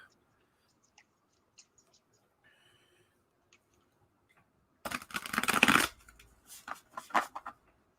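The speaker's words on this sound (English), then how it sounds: "I should be shuffling." Quiet faint ticks, then a burst of crisp riffling as cards are shuffled, followed by a few softer flicks.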